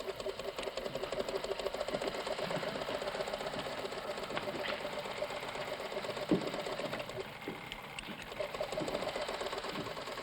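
A sewing machine runs steadily in a busy tailor shop, a continuous rapid mechanical whir with dense stitching clatter lasting throughout, moderately close, with faint voices in the background.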